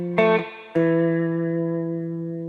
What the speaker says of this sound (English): we're doing the chorus progression as the next part of the intro